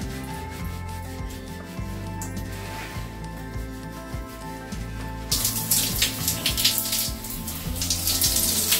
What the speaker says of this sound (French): Je viens de rincer ces cheveux.